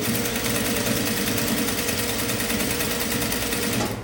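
A sewing machine runs continuously while stitching a sleeveless top, a loud, steady mechanical whir with rapid needle pulses that fades out at the very end.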